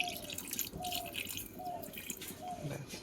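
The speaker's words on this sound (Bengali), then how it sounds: "এবার হালকা একটু জল দিয়ে দিচ্ছে।" A little water goes into chicken cooking in a pan, making soft drips and a light splashing patter in a few short bursts over faint kitchen background.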